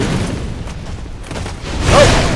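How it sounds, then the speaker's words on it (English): In a video game, a loud explosion hits as a deep, rolling boom that swells near the end over a constant rumbling background, with no talk. "at least I know the explosion works well"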